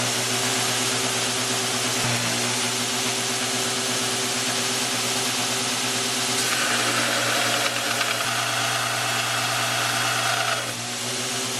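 A homemade 2x72 belt grinder driven by a 4.25 hp DC treadmill motor runs continuously with a steady electric hum and whine, close and constant, with a slight change in tone partway through.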